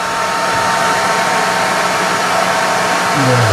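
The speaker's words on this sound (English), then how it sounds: "So we're going to turn the hair dryer on." A common household hair dryer runs continuously at high power, a loud steady whooshing blower roar with a motor whine, close to the microphone and without talk.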